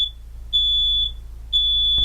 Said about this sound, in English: Fires create smoke which rises and makes your smoke detectors do this.